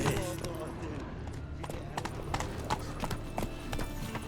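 Roach the horse trotting in The Witcher 3, a steady clip-clop of hooves running throughout over game ambience, with a voice talking over it.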